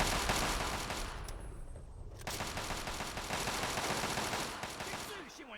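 Gunfire in the video game Fallout 3, dense rapid bursts like a machine-gun fusillade, loud and sustained with a short lull partway through.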